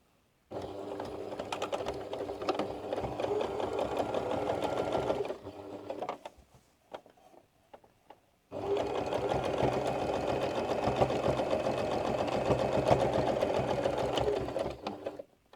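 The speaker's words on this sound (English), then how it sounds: "I'm going to go straight to the machine and sew between here and here, very close to the edge." Close and loud, a sewing machine runs a seam on a laundry bag in two long steady bursts split by a short quiet pause with faint handling clicks.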